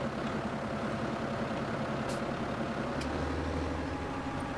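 A New Holland tractor engine in the video game Farming Simulator 17 runs with a steady, low diesel drone that holds at an even pitch and loudness throughout, with no voices over it.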